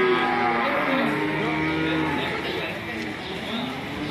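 Cattle at a livestock market, including limousine cross bulls, lowing in a long, drawn-out moo that fills the clip, fairly close and loud over a busy background.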